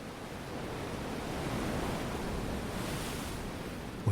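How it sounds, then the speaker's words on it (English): Ocean waves roll in steadily on a beach, a continuous broad wash of surf that swells slightly in the middle and holds at a fairly loud, even level throughout, with no voices. "Ocean waves."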